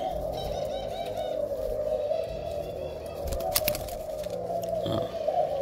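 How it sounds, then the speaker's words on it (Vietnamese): A male spotted dove coos in a steady, repeated rhythm, close and clear, with a few brief chirps and clicks in the background and no talking. "Chim rất là thuần luôn."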